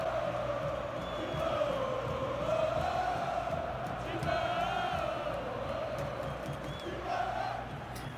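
Football supporters in a PES 2019 match stadium chant and roar in rolling waves, a sustained crowd din rising and falling over several seconds, with no voices talking over it.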